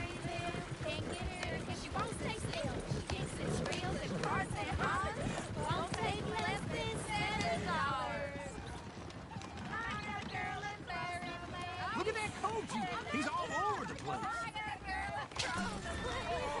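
Horses whinny and hooves clip-clop in the western video game Red Dead Redemption, with repeated neighs over busy hoof beats and voices talking throughout.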